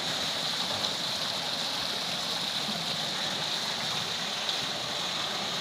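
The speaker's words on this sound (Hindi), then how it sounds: "यह जनाब तुसी देख रहे हो पर्शियन व्हील" Canal water lifted by a bull-driven Persian wheel in Punjab, heard as a steady, unbroken rush and splash of flowing water, even in loudness throughout, with no speech.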